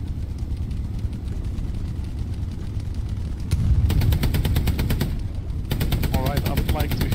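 An enemy machine gun firing in the World War II shooter Hell Let Loose: long rapid bursts of automatic fire over constant battlefield rumble, with a voice talking underneath.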